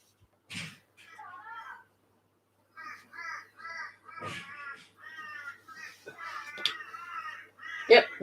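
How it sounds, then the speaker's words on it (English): Crows caw outdoors in the early morning in Australia, repeated harsh calls in bursts that grow more frequent, moderately near, with a cat-like meow mixed in. "Oh, now the birds are up. The crows are going."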